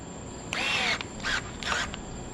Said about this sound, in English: Let me get my wrench where I can tighten this up.